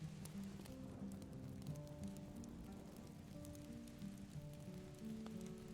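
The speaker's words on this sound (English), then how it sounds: "you all begin to hear the pattering of rain" Steady, faint rain patters continuously on a surface, with soft sustained musical tones beneath it and no voices.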